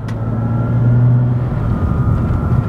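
A BMW 330Ci with a manual gearbox drives along, its engine giving a loud, steady droning hum with road rumble, heard from inside the car.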